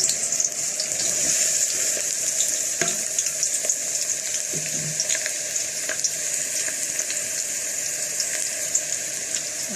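Onions dropped into hot oil for a stuffed cabbage filling, hissing in a steady, close sizzle with occasional clicks and light stirring noises for about ten seconds.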